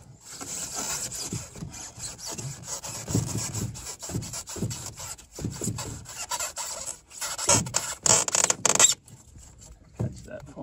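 A knife blade pushed and worked through a Nudura ICF foam block at a T corner, giving close, scratchy rubbing and sawing strokes in uneven bursts, with a few faint squeaks.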